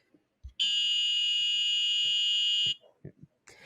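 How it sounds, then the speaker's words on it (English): Electric golf cart reversing warning buzzer, a loud steady high-pitched electronic tone held for about two seconds, with brief voices and knocks before and after. "An electric golf cart reversing warning buzzer."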